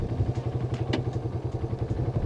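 A motorcycle idles with a steady pulsing rumble, then its gearbox gives a single sharp clunk as it is kicked into first gear without the clutch.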